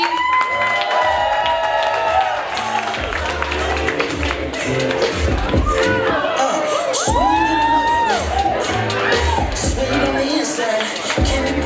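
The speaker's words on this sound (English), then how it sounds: "I want everyone to give a round of applause for Annie DeStassi." A comedy showcase crowd bursts into loud applause mixed with whoops, cheers and shouting, sustained and close for over ten seconds.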